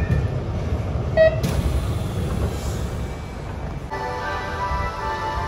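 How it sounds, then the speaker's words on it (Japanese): A local train bound for Amagasaki pulls into a station, a steady low rumble of wheels and motors with a brief high tone and a shift as it comes to a stop. "今来た普通天ヶ崎行きの列車で桜川駅に向かいましょう"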